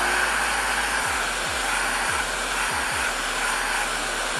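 A shop vacuum hooked to the 1.25-inch dust port of a Kreg MortiseMate loose-tenon mortising jig runs in a steady, loud, broadband whoosh that continues unbroken from start to finish, with no talking.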